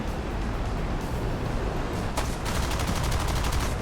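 Rapid aircraft cannon fire from a jet in War Thunder, a steady burst of repeated shots that grows denser partway through, loud and continuous with no voices.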